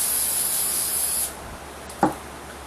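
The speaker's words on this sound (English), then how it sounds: "Butter flavored cooking spray." A single steady hiss of butter-flavored aerosol cooking spray lasts just over a second, then stops, followed by a faint clink.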